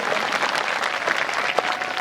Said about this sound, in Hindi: अगर लेते हैं तो एक बार ताली बजा दो